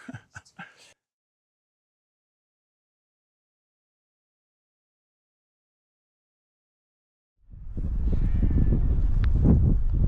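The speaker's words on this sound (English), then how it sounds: "Just wait for this gust to go through" A brief voice at the start, several seconds of silence, then a sudden loud, low wind gust roars and buffets the microphone during a paraglider harness test flight, blustering to the end.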